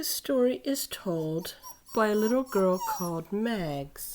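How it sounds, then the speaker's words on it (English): A female puppy whines and whimpers in high, wavering pitched cries that rise and fall in several bursts over about four seconds, close and fairly loud, while a woman reads a story aloud at the same time. "that's just my puppy whining because she's not getting enough attention right now."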